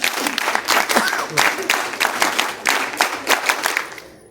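An audience applauds for NCC cadets at a Special National Integration Camp closing ceremony, a sustained burst of crowd clapping that fades out at the end.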